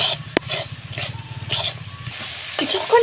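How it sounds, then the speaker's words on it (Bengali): Spice paste for a chicken curry being stirred and fried in a pan, giving a steady near sizzle broken by scraping strokes of the spoon and a sharp knock early on, with no talking. "এটা একটু লাল লাল করে ভেজে নিতে হবে, যতক্ষণ না একটু ভালো করে কষা হয়"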